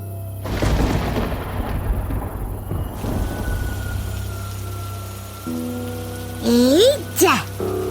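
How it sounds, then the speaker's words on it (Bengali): Rain pours steadily on a surface in a village setting, with a rumble of thunder early on, and a voice briefly sounds near the end. "এটা আবারও বৃষ্টি নামলো"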